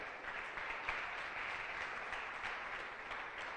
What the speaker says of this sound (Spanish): Dale una ofrenda de palmas al Rey de Reyes.